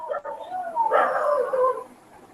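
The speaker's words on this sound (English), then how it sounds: "The dogs were barking there only." A dog gives a short burst of close, whimpering yips and barks, loud and brief, with no voices over it.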